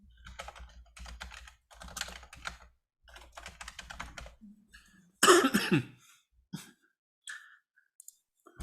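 Bursts of typing on a computer keyboard at a 2022 party organizing convention, quick clicking keystrokes in several short runs, then a nearby cough and throat clearing.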